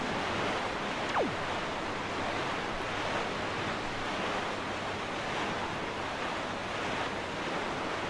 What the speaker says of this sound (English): Sailing!